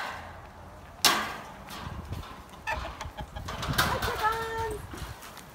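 Chickens cluck in a farmyard alongside a goat, with soft irregular clucks and bird calls close by, including a brief tonal call near the end, over low rustling and handling noise and a sharp knock early on.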